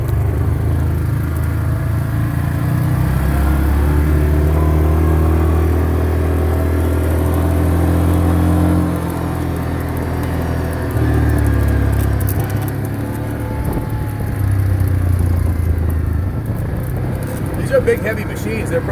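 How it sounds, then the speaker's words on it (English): Ural sidecar motorcycle rigs, heavy machines of 800 to 900 pounds, ride along with a steady low engine rumble and droning hum that stays loud and close throughout, with someone talking over it. "These are big, heavy machines. They're probably 800-900 pounds with the sidecar rig."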